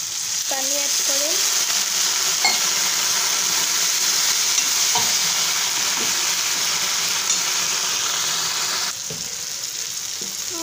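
Masala and tomatoes with salt and a little water fry steadily in oil for an Assamese chicken curry, a constant loud sizzle with occasional stirring clinks and a few faint vocal sounds.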